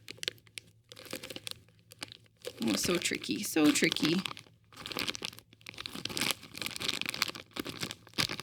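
An alphabet soup packet is torn open by hand without scissors, giving bursts of crinkling and crunching plastic in irregular spurts. Someone talks between and over the rustling.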